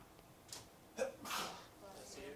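A single faint sneeze sounds in a classroom during a math lecture, brief and somewhat distant, with soft room noise around it.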